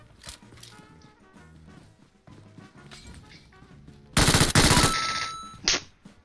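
MG3 machine gun fire in the PUBG Mobile video game, a loud dense burst of rapid automatic shots near the end, following softer game sounds and background music.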